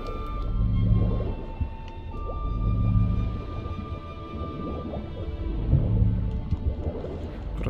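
An underwater whale call in The Witcher 3, made of low, drawn-out moaning tones that swell and fade in repeating waves, alongside faint dripping and gurgling water.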